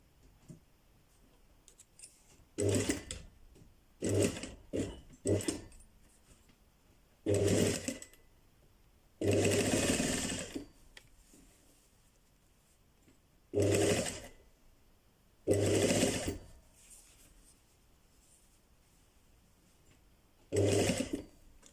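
A sewing machine stitches a zipper onto a sweatshirt in short, separate runs of rapid mechanical whirring, each lasting a second or two, with quiet pauses between them.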